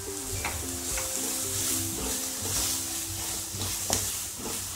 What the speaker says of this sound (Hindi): ये हम प्याज को 2-3 मिनट भून लेंगे पहले।